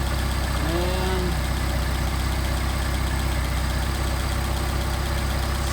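A car engine with rebuilt Solex carburetors idles steadily and loudly throughout, a continuous even drone with no other sounds over it.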